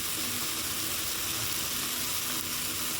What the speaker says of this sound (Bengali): এবার এটা কষিয়ে নিচ্ছি।